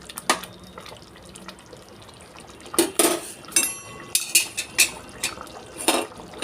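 Vegetable rice with capsicum being mixed in a pot, a spoon scraping and clanking against the metal in a run of close, uneven knocks that cluster together toward the end.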